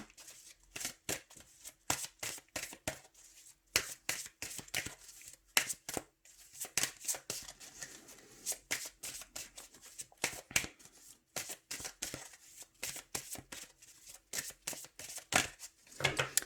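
A deck of tarot-style cards is shuffled by hand before cutting, a close, quick series of crisp riffling and slapping bursts in an irregular rhythm, with brief pauses between.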